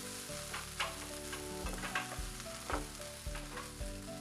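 Chicken tikka filling being stirred in a pan, a steady soft sizzle broken by periodic scraping strokes of a spoon across the pan, close and moderately loud with no talking.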